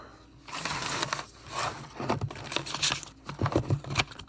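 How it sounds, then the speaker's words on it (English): Rustling, flicking bursts of tarot cards being shuffled come in several quick rounds with short pauses between them. "Let's shuffle these other cards as well."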